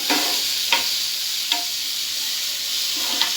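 Onion and tomato masala being stirred in a pan, a steady loud sizzle with a few brief scraping knocks of the spoon, close and continuous.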